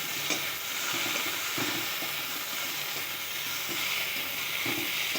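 Freshwater eel (kuche fish) fries in a pan with a continuous loud sizzle and crackle, punctuated by faint stirring scrapes, close and steady with no voice over it.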